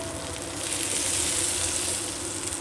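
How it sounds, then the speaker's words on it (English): Gnocchi sizzle and crackle in hot oil in a frying pan, a steady close hiss that swells slightly midway and carries on without talk. "So into the pan, you want to hear a little sizzle."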